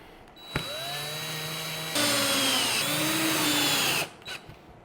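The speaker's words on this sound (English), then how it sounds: "We're gonna put a Phillips head driver into my drill." A power drill fitted with a Phillips head driver bit drives screws home, two sustained whirring runs of about a second and a half and two seconds, with a higher-pitched stretch in the second run, close and loud, followed by brief clatter.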